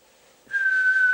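A steady 1 kHz test tone sent through a Moonraker Minor Mk1 UK CB27/81 mobile CB radio, starting abruptly after a brief hiss and holding level to the end.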